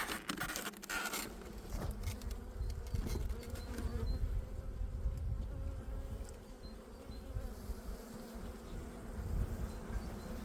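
Honey bees hum in the lower brood box of a hive after winter, a soft continuous buzz close by, broken early on by a few sharp scrapes and knocks from handling the woodwork.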